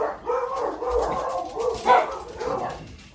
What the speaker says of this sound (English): More dogs are barking because it's that time of the day